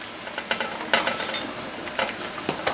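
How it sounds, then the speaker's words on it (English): Air hisses faintly out through a straw from a poultry bag pushed down while processing a wild hog, a soft breathy rush with a few brief louder puffs. "A lot of times you'll hear that air coming out of that straw pretty quickly."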